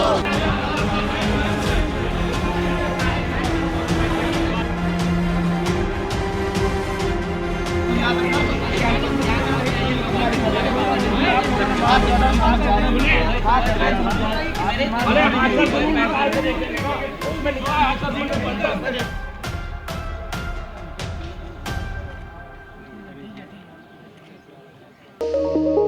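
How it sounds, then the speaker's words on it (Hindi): A student protest crowd at Lucknow University, demanding the proctor's resignation, keeps up a loud, dense wall of chanting and babble that fades near the end. A sudden sharp burst follows. "राजधानी लखनऊ में लखनऊ विश्वविद्यालय में एक धरना प्रदर्शन चल रहा है"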